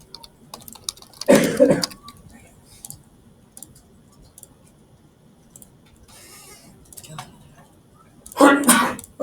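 A person sneezes loudly indoors during a group activity, with a second similar burst near the end and faint keyboard-like clicks and rustling in between.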